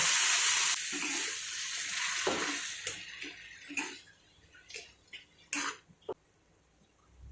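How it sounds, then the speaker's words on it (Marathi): A rush of hot water pours into a pan of sizzling onion-tomato chutney, hissing loudly at first, then fading into scattered bubbling pops and sputters. "याच्यामध्ये आपण गरम पाणी टाकून घेणार आहोत थोडंसं"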